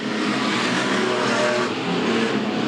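A race car roars past on a circuit at close range, its engine loud and sustained throughout with a slight dip and swell as it goes by.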